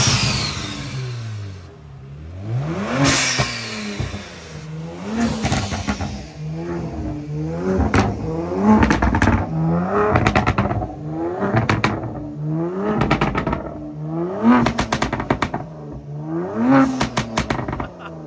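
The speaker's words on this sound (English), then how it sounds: "standing there behind the car, taking those pops and bangs like a champ" Kia Stinger GT1 revving repeatedly, its exhaust crackling with pops and bangs between rising engine pulls, loud and close with a steady rhythm of blips.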